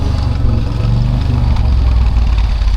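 A small Goldoni tractor engine with a carburetor problem runs loud and close, a steady low throbbing idle that holds without a break.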